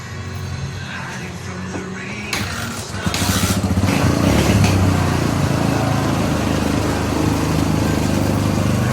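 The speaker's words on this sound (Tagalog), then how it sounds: "Paandarin ko muna yung motor." A Barako 175 motorcycle engine starts up after a few seconds, then runs at a loud, steady roar close by.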